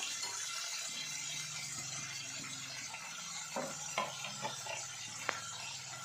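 Tomatoes and peanuts tipped into a hot pan and stirred, giving a steady moderate sizzle with a few sharp spoon clinks and scrapes against the pan partway through.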